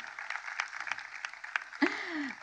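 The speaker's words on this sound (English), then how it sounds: "that's an applause line," Audience applause at a memorial anniversary celebration, a soft, fairly distant patter of clapping heard briefly before a voice cuts in near the end.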